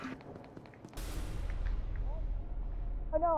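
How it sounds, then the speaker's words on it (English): A flashbang grenade bursts in the game SCP: Secret Laboratory, a sudden loud blast followed by a sustained low roar and ringing tail, with brief voice-like sounds before and after. "I'm very scared by that flashbang."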